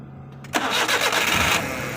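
A car engine cranks and catches, then runs loud and steady for about a second before settling to a lower idle, heard close and alone while troubleshooting a fault.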